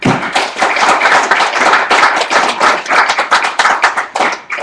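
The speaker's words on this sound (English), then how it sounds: "We need to give them an applause for your hard work." Lawmakers applaud during a legislative special session, a burst of close, dense clapping that carries on steadily for several seconds before thinning out.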